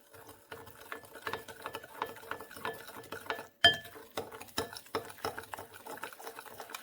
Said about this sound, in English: sodium bicarbonate and the corn flour. And we're going to give it a good mix